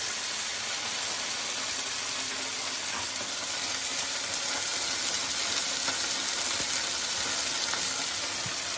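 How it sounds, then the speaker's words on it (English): A pork chop sizzles in olive oil in a pan for a creamy mushroom pork chop dish, giving a steady, dense frying hiss with faint crackles throughout, close and continuous with no talking. "I love to listen to the sizzle."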